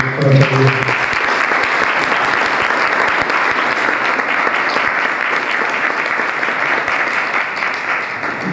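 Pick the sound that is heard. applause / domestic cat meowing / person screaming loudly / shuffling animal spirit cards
applause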